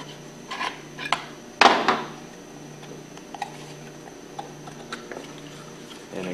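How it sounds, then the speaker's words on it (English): Metal clinks and scrapes as two flat screwdrivers pry the impeller off a Hypro centrifugal pump, with one sharp clatter and a few faint ticks afterward. "use the two flat screwdrivers to pry off the impeller"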